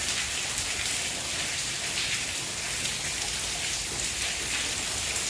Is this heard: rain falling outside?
yes